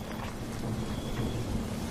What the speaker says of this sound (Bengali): বাতাসের তীব্রতা বাড়তে বাড়তে একসময় শুরু হলো তুমুল ঝড় বৃষ্টি